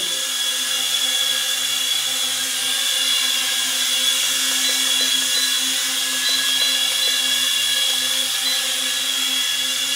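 A FLYHAL E69 mini camera drone hovers indoors, its small propellers giving a loud, steady high-pitched whine with a buzzing motor tone. The whine runs without pause for the whole stretch, with no talk over it.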